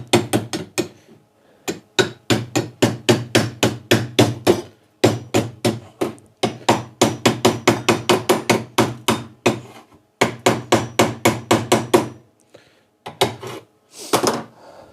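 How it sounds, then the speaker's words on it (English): Rapid metal taps knock slag off the back of 8mm steel plate after plasma cutting, using a small tapping stick on the workpiece. Quick bursts of ringing strikes come in clusters with short pauses, loud and close, and no voices. "Let's just get a little tapping stick on it and see if we can clean that slag off at back."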